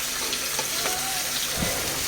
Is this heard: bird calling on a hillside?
no